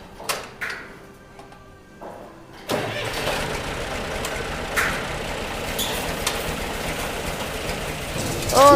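A tractor in low range, first gear, pulling a Melroe 204 seeder ahead: the engine catches after a few faint knocks and settles into a steady, close diesel rumble that swells slightly at the end.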